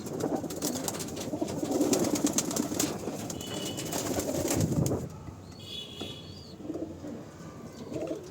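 Baby pigeons coo inside a loft, low burbling coos overlapping for several seconds, then a brief flutter of wings and quieter calls as the flock settles.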